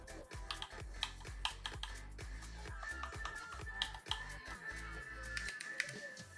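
Rapid, uneven clacking of keys on a RAMA M60-A mechanical keyboard in black during a typing test, with sharp close-up strikes and occasional heavier bottom-outs, with no talking.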